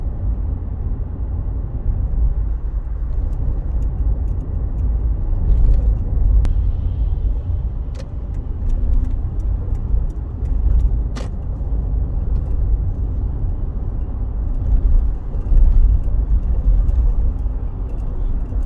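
A car drives along Ala Moana Boulevard in Honolulu with a steady, close low rumble of engine and road noise, swelling slightly at times, plus a few faint clicks and no talking.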